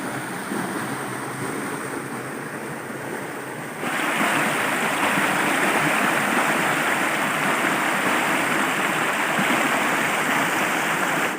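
A forest waterfall gives a steady, loud broadband rush of falling water that grows noticeably stronger partway through, with no voices.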